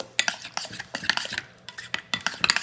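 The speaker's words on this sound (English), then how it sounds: "now what we're just going to do is just mix this all up" Spoon scraping and clinking in a bowl while sambal mixture is stirred together with chicken, quick irregular wet taps and scrapes, close and moderately quiet, no voices.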